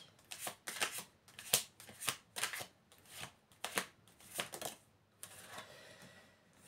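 A deck of playing cards being shuffled, with repeated crisp riffling bursts in an uneven rhythm, close and fairly quiet, with no voices.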